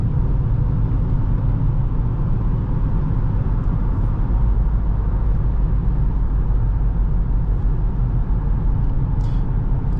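A 2021 Dodge Charger R/T pulls up to speed at light throttle, its engine a steady low hum under constant road and tire rumble heard from inside the cabin.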